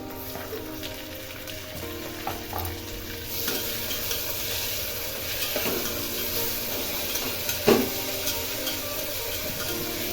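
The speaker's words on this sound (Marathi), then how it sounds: "तर आता त्यामध्ये आपण बारीक चिरलेलं टोमॅटो जे आहे ते घालणार आहोत." Finely chopped tomatoes sautéing in a pan with onions fried until pink: a steady close sizzle with occasional stirring scrapes and clinks.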